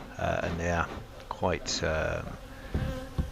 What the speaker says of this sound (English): You'll see them, they'll be pinging off my head, they'll be making a lot of noise.